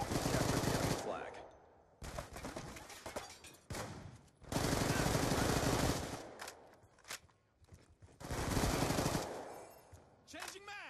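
Rapid automatic gunfire in a capture-the-flag video game match comes in several long bursts separated by short gaps, loud and close, with game announcer voice lines breaking in between.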